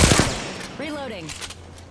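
Rapid bursts of gunfire in a shooter video game: a quick volley of shots up front, then a tailing mechanical whine and scattered cracks, loud and close with a voice briefly mixed in.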